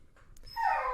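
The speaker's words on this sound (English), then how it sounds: "Sorry about the dog in the background." A dog in the background gives a single short whimpering yip, faint and brief, over quiet room noise.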